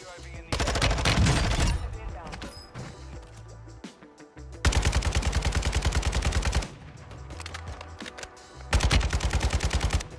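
Kastov 762 rifle firing in Call of Duty, several long bursts of loud, rapid automatic fire separated by short pauses, close and dominant.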